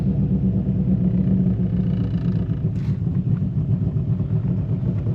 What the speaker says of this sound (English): It's running like incredibly rough.